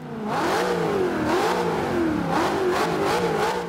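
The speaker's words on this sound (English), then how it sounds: "Now, it does sound a hell of a lot more fierce than the standard Mustang" Custom Ford Mustang Boss 302 engine in the racing game Forza 5, revving loudly and climbing through rising and falling pitch sweeps as the car accelerates, heard alone with no talk.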